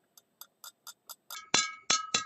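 A glass rod stirring calcium chloride and sodium hydroxide solution in a glass vessel, a series of light, evenly spaced ticks that grow into three louder, ringing clinks.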